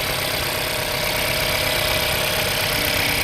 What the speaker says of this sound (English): Can you hear the engine sound?